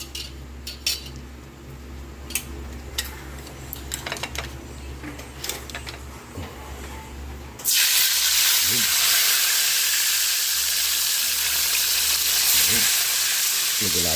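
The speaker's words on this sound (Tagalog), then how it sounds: "Magpiprito na po tayo ng ating isdang tilapia." Tilapia fish frying in hot oil, a loud, dense sizzling hiss that bursts in suddenly after a quieter stretch of kitchen clatter and utensil clinks, continuing steadily up close.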